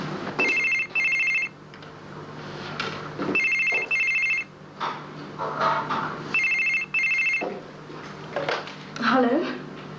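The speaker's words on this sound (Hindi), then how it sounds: "जी अली, आपके लिए फोन है" A telephone rings in repeated double bursts, three rings spaced evenly across the scene, with people speaking in Hindi/Urdu between and around the rings in an office setting.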